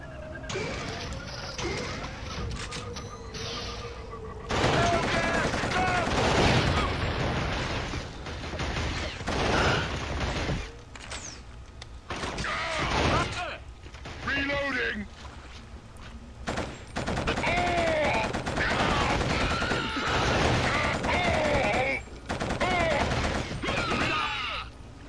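Heavy gunfire in the Killzone video game, with bursts of automatic fire, clanks and crashes in dense loud waves with short lulls between them.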